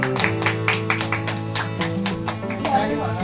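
At a family birthday celebration for a mother, with cake on hand, people clap in a quick, rhythmic run of sharp handclaps close by, mixed with voices talking.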